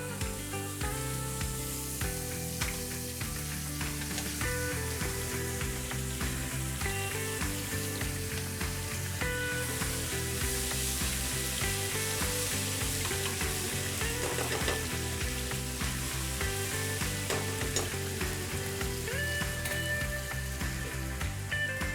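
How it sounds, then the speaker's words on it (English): Ginger garlic paste hits very hot oil in a pan and sizzles steadily, a dense continuous frying hiss with occasional stirring scrapes. It stays close and even throughout, with music playing underneath and no talking. "Once the oil gets really hot, add the ginger garlic paste."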